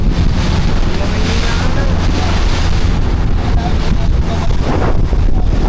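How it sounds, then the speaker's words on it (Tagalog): Strong, large whitecapped ocean waves rolling and crashing near a small fishing boat at sea, a constant loud roar mixed with heavy wind buffeting the microphone throughout. "sobrang lakas ng alon"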